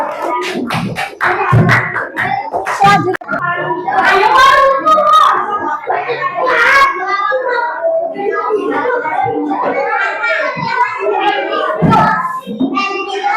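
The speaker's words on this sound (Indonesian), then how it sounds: "Tepuk tangan untuk kelompok 5" Third-grade elementary schoolchildren in an Indonesian classroom clap for a classmates' group, with a burst of sharp, close claps in the first seconds that gives way to steady children's chatter and voices.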